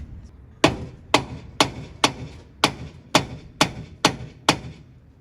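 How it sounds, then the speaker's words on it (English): Nine heavy, evenly spaced thuds from a dead blow hammer striking an engine cylinder head below the water pump, each a sharp dull knock about half a second apart, close up. "if we smack below the water pump here with a dead blow hammer"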